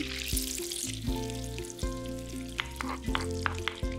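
Butter melting in a pan on a stovetop, crackling with a steady sizzle and occasional sharper pops, close and alone with no voices.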